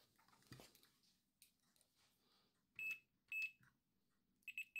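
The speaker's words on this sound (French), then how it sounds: "Avec le multimètre en mode continuité, je vais tester toutes les pines." Short electronic beeps from a multimeter in continuity mode testing connector pins, one then another and a quick double pair, each a steady high tone, heard over faint clicks and handling noise.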